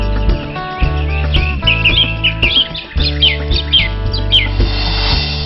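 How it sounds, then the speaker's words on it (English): Several parakeets, including Alexandrine and rose-ringed parakeets, give sharp, shrill chirps and squawks in quick, irregular bursts over a steady background hum, fairly close and loud, at Kanha. "We even heard the calls of some birds, like different parakeets such as the Alexandron parakeet and the rose-ringed parakeet"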